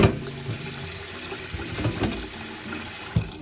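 Water pours from a tap into a pot of rinsed rice, a steady splashing rush with small bumps and clinks of the pot, loud and close, no voices.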